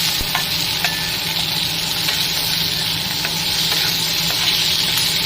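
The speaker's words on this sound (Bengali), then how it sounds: "আলুগুলো একটু ভাজা ভাজা হোক, তারপর মশলা দেবো।" Potatoes fry in a pan with oil on a home kitchen stove, giving a steady, close sizzle with occasional light stirring clicks.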